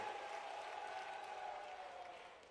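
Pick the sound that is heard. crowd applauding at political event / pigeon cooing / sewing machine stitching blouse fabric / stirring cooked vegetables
crowd applauding at political event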